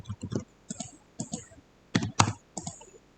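Someone types on a computer keyboard while entering stock screener rules, producing about seven short clusters of crisp clicks and taps, close and clear, with a louder double tap near the end.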